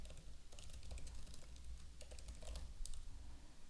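Rapid keyboard typing on a computer while coding a portfolio website in HTML, CSS and JS, a steady run of close, crisp key clicks with irregular bursts and no talking.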